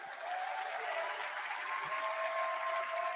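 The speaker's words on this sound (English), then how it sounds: "Let's give him a round of applause." Crowd in a convention hall at the Democratic National Convention gives a sustained round of applause, heard faint and distant as a steady wash of clapping with no break.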